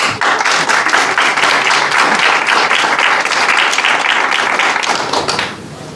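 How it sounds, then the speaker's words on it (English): A conference audience at a young scientists' IUPAC lecture applauds loudly and steadily, a dense wash of clapping for about five seconds that fades at the end. "applause for Camille."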